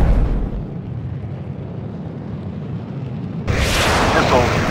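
Building explosion in the jet combat game Air Supremacy 2, a deep continuous rumbling blast with a brighter burst of debris noise near the end, loud and close.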